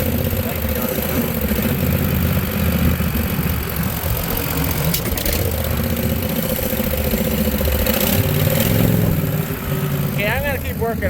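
An engine runs steadily while driving a gearbox through a slipping belt, giving a constant mid-range mechanical drone with a brief squeal near the end, with no voices.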